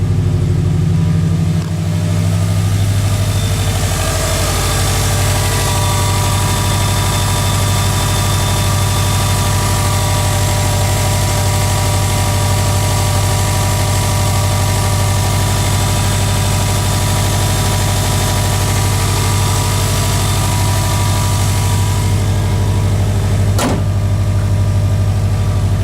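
A 2008 Subaru WRX with a Nameless Performance muffler delete, cold-started and idling up close: a loud, steady, droning exhaust rumble with a faint tick near the end.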